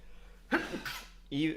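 A single short sneeze bursts out in a quiet room, followed by another brief vocal sound a moment later.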